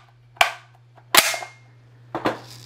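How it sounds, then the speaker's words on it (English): An AR rifle bolt carrier slams forward as it's released from last-round hold open, giving a sharp metallic clack, with two more quick mechanical clicks and snaps close by over a low hum. "And you can see it falls, the bolt carrier falls, no problem"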